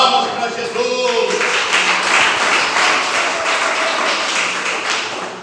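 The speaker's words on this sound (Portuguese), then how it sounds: "Palmas para Jesus." A church congregation claps together in praise, a dense sustained wash of many hands, loud and close, with voices mixed into the roomy sound.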